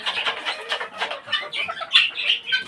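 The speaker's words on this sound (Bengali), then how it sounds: "আলহামদুলিল্লাহ এখন মুরগিগুলো ভালোই আছে" Chickens on a small farm cluck and squawk in short, choppy bursts close by, with the calls overlapping in an irregular, busy chatter.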